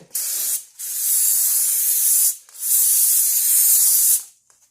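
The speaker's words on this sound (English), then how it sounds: "Grab your brake clean. You want to spray the inside where your park brake shoes hit" Two long bursts of hissing aerosol brake cleaner sprayed inside a rear brake drum, close and steady, each lasting about two seconds with brief pauses between.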